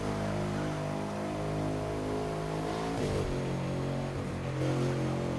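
Car engine in The Crew 2 video game revving steadily and loudly throughout, a continuous harmonic drone that dips and swells around the middle as the pitch shifts, with no talking.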